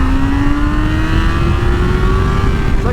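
A motorcycle engine held in first gear climbs steadily in pitch as it revs up, loud and continuous for the whole stretch with no talking.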